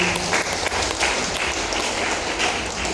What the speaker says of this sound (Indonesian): mohon tepuk tangan untuk Bapak Ibu.